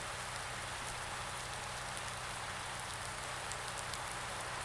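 Rain falls steadily in the Farming Simulator 19 video game, a dense, even hiss of drops on surfaces that stays constant throughout with no voices.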